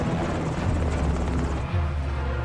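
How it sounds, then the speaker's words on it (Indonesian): A helicopter in a movie chase scene flies overhead with a loud, steady rotor thrum and engine roar, continuous and close, with no talk. "Gereja, Mauser, dan The Expendable kemudian menggunakan helikopter untuk mengejar Villain yang sedang menuju ke bandara."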